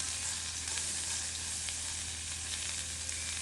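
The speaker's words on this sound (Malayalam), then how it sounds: "ഇതെല്ലാം ചേർത്ത് നന്നായി ഒന്ന് വഴക്കിയെടുക്കണം" Green chilies and roasted gram sauté in a hot pan for a dosa and idli chutney, giving a steady, close sizzle of frying with faint stirring scrapes throughout, no voices.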